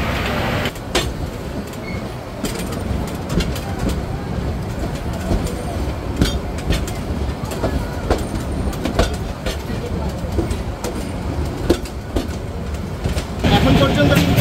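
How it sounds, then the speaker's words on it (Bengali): The Korotoa Express pulls out of Sonatola station with a steady rumble and scattered clanks and knocks from the carriages, under intermittent talk. "দুই মিনিটের যাত্রাবিরতি দিয়ে ট্রেনটি ছেড়ে যাচ্ছে সোনাতলা"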